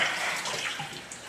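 King cobra being lifted out of water, a brief close sloshing and splashing of water that runs continuously.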